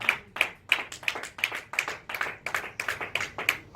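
A church congregation claps in praise of God, a steady rhythmic beat of sharp, loud handclaps, roughly three per second, with no speech over it.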